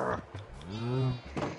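A cow moos in the Minecraft video game, a single drawn-out low moo rising and falling, close and clear, with brief voice-like sounds at the start and end.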